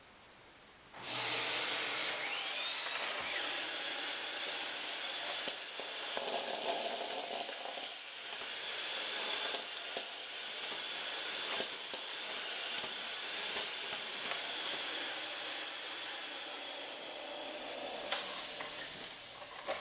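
A Dyson DC39 Animal vacuum cleaner with its brush bar switched off starts up and runs as a loud, steady rushing hiss close by, with slight shifts in tone as it moves over hard flooring and no talking.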